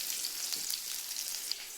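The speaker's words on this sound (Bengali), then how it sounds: "এখন এটা একটু ভাজা ভাজা করবো।" Skin-on potatoes fry in a pan for khichuri, giving a steady, close hissing sizzle with faint crackles and no voices.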